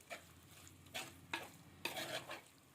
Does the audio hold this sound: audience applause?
no